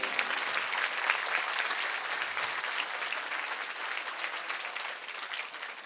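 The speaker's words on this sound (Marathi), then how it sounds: "आपल्याला ही कथा जेवढी आवडली तेवढ्या जोरात टाळ्या आपण वाजवायच्या" An audience at a religious katha discourse during the Shri Mohiniraj yatra festival bursts into sustained, dense applause, many hands clapping steadily and close, fading slightly toward the end.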